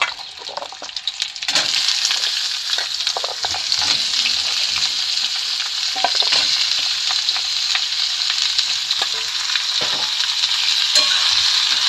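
Potatoes and onions fry together in a pan over medium heat, a loud dense sizzle that bursts up after a quieter start and carries on with scattered crackles and stirring scrapes.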